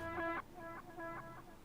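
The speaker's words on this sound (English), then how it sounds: "I've got two delays here. The first one is simply a dual delay," Electric guitar run through a dual delay with a touch of reverse, playing a short phrase in an ambient worship style: a few quiet chiming notes with soft repeating echoes that swell and fade, faint and brief.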